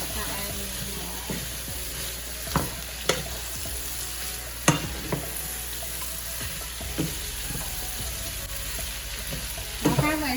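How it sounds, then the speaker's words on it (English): Cabbage fries with a continuous steady sizzle in a pot while a utensil stirs it, scraping and clattering now and then against the pot, loud and close throughout. "I'm just going to mix up my ingredients together before I add any more."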